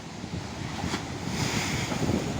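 Big ocean waves during a typhoon surge and wash close by, mixed with gusting wind buffeting the microphone, a rough, continuous roar that cuts off abruptly.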